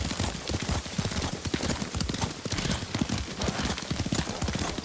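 Horse hooves clip-clop in a steady rapid rhythm while riding in the Ghost of Tsushima video game, close and continuous throughout with faint ambient sound beneath.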